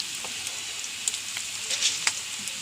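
Ginger, fenugreek, urad dal and rice frying in hot oil for a Kerala-style sambar give a constant close sizzle with small pops and crackles scattered through it.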